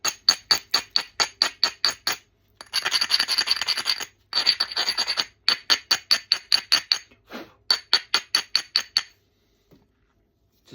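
Seaside flint rubbed and ground with a hammerstone during knapping: a run of sharp rhythmic rasping scrapes, then two longer continuous grinding passes, then more quick strokes, close and loud with no talking.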